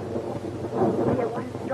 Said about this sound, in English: Oh, dear, what a storm.